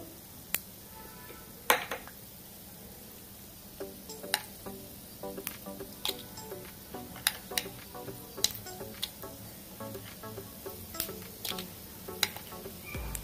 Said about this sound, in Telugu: ఇవన్నీ మనం కొద్దిగా మీడియం ఫ్లేమ్లోనే పెట్టుకుని వేయించుకోవాలండి